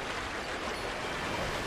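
A waterfall flowing in the video game New Pokémon Snap, a steady broadband rushing wash of falling water, even and continuous with no talk.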